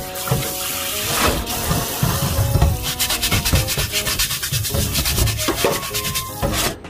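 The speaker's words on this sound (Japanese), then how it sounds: "今度は洗剤はつけずに、こういったね、 亀の子たわし、これで水洗いしてください。" A round 20 cm Pearl Metal cast-iron steak plate is scrubbed with a kamenoko palm-fibre brush under water, without detergent: steady, close, rasping strokes with wet splashes that continue without a break.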